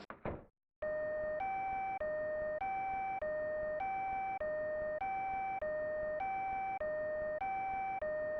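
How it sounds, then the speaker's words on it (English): A chiming two-tone ambulance siren from the SNES game Kachou Kousaku Shima: Super Business Adventure, cycling evenly in a steady electronic up-down pattern after a brief opening noise, loud and continuous. "Well, that's an ambulance sound."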